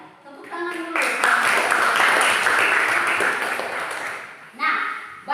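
Students in a classroom clap together in a dense burst lasting several seconds. It starts after a voice speaks and fades as a short second round of clapping and speech follows.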